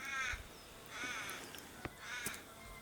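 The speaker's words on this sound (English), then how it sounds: "The crows are crowing at the moment." Crows caw outdoors around an abandoned farmhouse, three harsh calls spaced about a second apart, moderately distant, with no talking.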